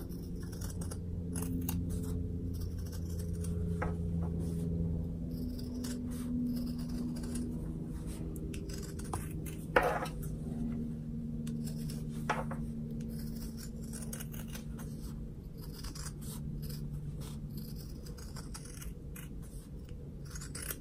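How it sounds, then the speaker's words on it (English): Scissors cutting fabric along a curve for a stuffed gnome, a run of soft, close snipping and crunching cuts at an irregular pace over a quiet low hum. "I'm just going to cut along this curve. So just cut all the way around."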